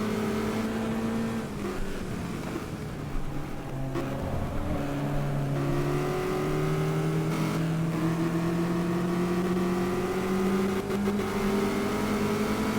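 A Ford Mustang race car's engine revs and pulls through the gears during a race, a loud, continuous rising and falling drone with shifting pitch sweeps, heard from close by without talk.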